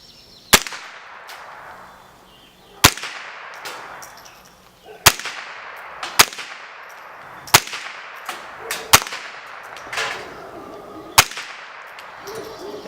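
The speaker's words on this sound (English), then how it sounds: "to show you an application of nitro powders in a rifle" Rifle shots loaded with nitro powder are fired outdoors, about nine sharp loud cracks at irregular intervals over several seconds. Each shot is followed by a short decaying echo.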